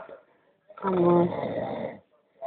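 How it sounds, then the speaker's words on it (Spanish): A person snores in one long, loud, rasping breath lasting over a second, with quieter breathing before and after. "Estás roncando."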